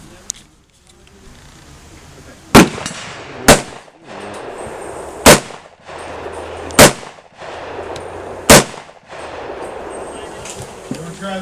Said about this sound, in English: Can I shoot the next rounds?